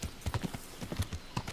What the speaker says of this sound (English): Maybe the horse is just scaring them off in every direction?